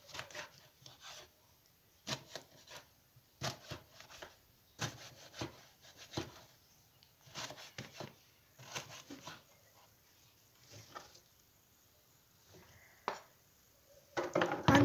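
A knife chops eggplant on a wooden board in sporadic clusters of soft, close thuds separated by quiet pauses.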